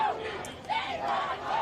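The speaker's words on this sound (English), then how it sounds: "There are hundreds of people chanting "Shame on you."" Hundreds of protesters at Columbia University chant "Shame on you" in rhythmic, rising and falling waves of massed voices, heard from some distance as police in riot gear clear the campus.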